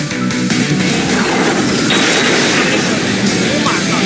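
Video game gunfire in an online shooter: dense, continuous rapid shooting and rumbling booms fill the whole stretch at steady high loudness, with no pauses and no voices.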